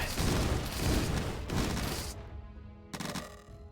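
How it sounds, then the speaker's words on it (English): A dense burst of rapid projectile fire in Dungeon 100 crackles loud and close for about two seconds, breaks off, then a shorter flurry returns. "I shoot a bunch of 5 projectiles, and they hit something, and they all shoot, what, 5 projectiles?"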